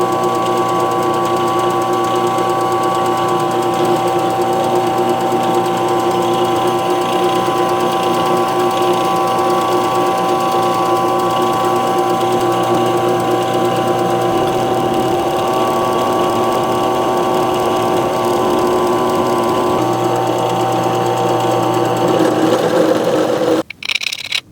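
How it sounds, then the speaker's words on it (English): A drill bores holes through NPT pipe fittings with a continuous loud motor whine and steady buzzing hum for a long stretch, ending with a brief clatter as it stops. "we'll get a hole drilled in them"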